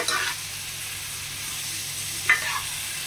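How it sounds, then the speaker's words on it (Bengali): Pepper chicken fries on a high gas flame, giving a steady close hiss, with a brief scrape of a spatula stirring the pieces partway through. "হাইতে দিয়ে এটাকে ভালো করে একটু নাড়বেন"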